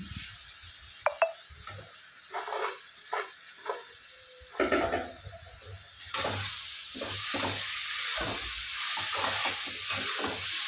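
Green chilli, turmeric, salt and fried mung dal are stirred in a sizzling pan for a vegetarian ash gourd curry, with steady frying hiss and repeated scraping stirs close by, no talking.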